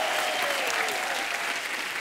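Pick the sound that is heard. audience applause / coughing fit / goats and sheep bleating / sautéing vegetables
audience applause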